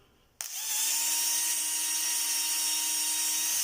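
A repaired Bosch or Makita electric motor switches on abruptly and runs at a steady high-pitched whine, loud and alone.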